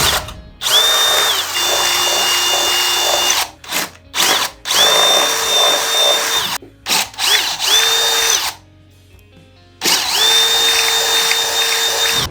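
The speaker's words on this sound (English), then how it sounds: "I do need to drill an additional 4 holes on this guitar." A power drill whirs loudly up close in long bursts, drilling holes in a guitar body, stopping and starting again several times, with short pauses between runs.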